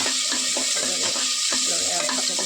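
Peanuts and raisins fry in ghee for pulao, giving a dense, even hiss that fills the whole moment, with faint scraping and a soft low hum underneath.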